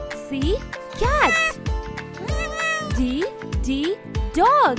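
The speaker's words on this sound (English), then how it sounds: "C, cat." Several cat meows in a row, close and clear, each rising and falling in pitch, with short gaps between them and no talk.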